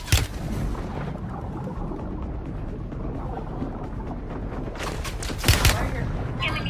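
Gunfire in a Rebirth Island battle royale match, bursts cracking over constant low ambient rumble, with a louder cluster of shots near the end; players talk over it.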